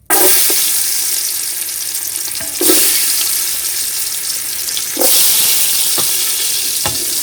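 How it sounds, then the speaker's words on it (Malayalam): Cashew nuts frying in ghee in a pan for a home-style village chicken dum biryani, with a steady hiss of sizzling throughout and a few louder bursts as the nuts are stirred. "അണ്ടിപ്പരിപ്പ് വറുത്തെടുക്കാം. ഇതിലേക്ക് അണ്ടിപ്പരിപ്പ് ഇട്ട് കൊടുക്കാം."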